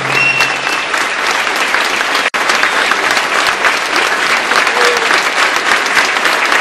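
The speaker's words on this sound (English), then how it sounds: "I want you to hear the applause here from everyone." A large crowd in France applauds in memory of the Charlie Hebdo victims, loud sustained clapping from many hands for the whole stretch, with a brief cut near the middle.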